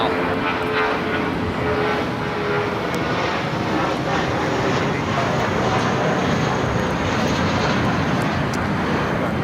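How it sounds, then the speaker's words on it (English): Boeing 777 freighter on its takeoff roll from the south side runways at LAX, a loud, steady jet roar sustained throughout, heard from a distance outdoors. "MSC Air Cargo Flight 8650 heading to Hong Kong in the 777 freighter, going to be taken off here on the south side as well."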